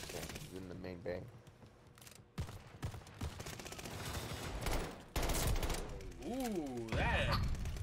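Rapid automatic gunfire from the new BP50 weapon in a shooter video game, crackling bursts in quick succession amid game effects, with players talking and exclaiming over the shooting.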